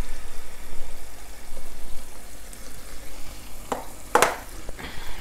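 Chopped peppers and tomatoes cook in oil over low heat for a Ghanaian beef stew, giving a loud, steady hiss, with a couple of sharp spoon scrapes near the end.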